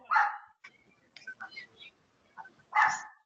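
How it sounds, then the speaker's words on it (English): Two small chihuahuas bark in sharp bursts indoors, a loud yap at the start and another near the end, with softer yips and whimpers between them. "Nope, that was my 2 chihuahuas."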